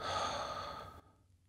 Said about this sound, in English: Again, breathe in, hold it, and then breathe out.